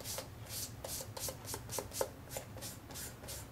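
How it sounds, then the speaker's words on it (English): A paintbrush dabbing and rubbing the edges of a painted dress on an upcycled canvas: soft, close, rhythmic brushing taps, about a dozen light strokes in steady succession. "now I'm going to use my paintbrush to kind of hit a little bit of the edges of this dress"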